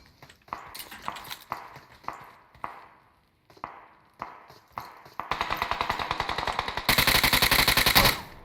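Gunshots in a battle royale shooter played one against four: a few spaced single cracks, then sustained rapid automatic fire that grows louder and denser toward the end, with no talking over it.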